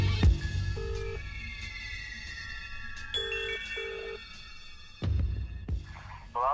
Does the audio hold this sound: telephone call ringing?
yes